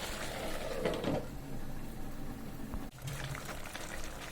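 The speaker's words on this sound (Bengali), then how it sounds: "এই যে মসুর ডালগুলো দিয়ে দিলাম।" Boiled red lentils poured into a pan of mixed vegetable curry, a soft wet splash and slosh, followed by a gentle bubbling simmer.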